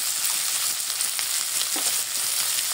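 Brinjal and mixed vegetables fry in a pan with five-spice seeds, turmeric and chili powder, giving a dense, even sizzle that holds steady throughout at close range.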